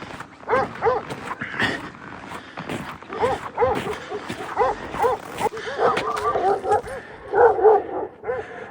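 Several dogs bark and yip repeatedly at close range, overlapping in an excited, irregular chorus with occasional whimpers and footsteps.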